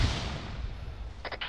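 An explosion in the Arma 3 military shooter during a milsim co-op operation: a low, distant rumbling boom that sustains across the moment, followed by a few short, sharper cracks near the end.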